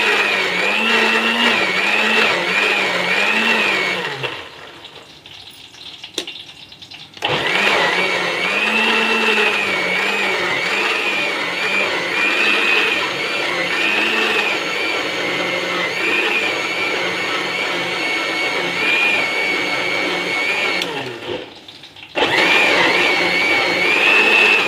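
An electric blender grinds a beef biryani spice paste with water, a loud continuous high whine that cuts out briefly twice before restarting, close by with no voices.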